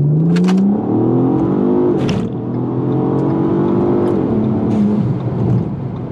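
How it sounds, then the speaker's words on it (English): A car accelerating hard in a 0 to 60 mph run with an electronic throttle controller in P1 mode and some engine knock, its engine note rising steadily through the gears with brief shift breaks, loud and close throughout. "car is now accelerating slower"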